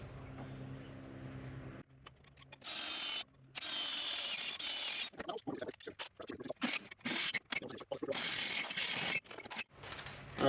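A power drill boring holes into a metal part during a Mk2 Ford Escort RS2000 restoration, close and intermittent, with short whirring and scraping bursts broken by brief stops.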